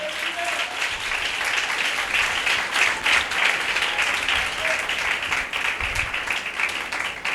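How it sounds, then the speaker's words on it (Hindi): A church congregation at a Mother's Day sermon gives loud applause for Jesus Christ, a thick, sustained clapping that continues for several seconds with a faint low hum beneath. "यीशु मसीह के लिए जोरदार तालियां बजा"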